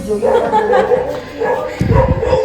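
A dog barks and yips a few times in a home during a family festival celebration, under and between people talking nearby.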